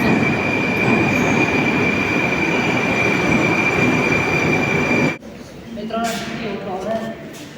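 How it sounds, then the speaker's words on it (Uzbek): Metro train running underground, with a loud, close, steady rumble of wheels and car noise carrying a high whine for about five seconds before dropping abruptly to a quieter interior hum with people talking. "Metro ichida video oldik."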